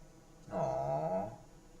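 A dog lets out a single short whining growl lasting under a second, close and fairly clear against a quiet room, with no talk over it.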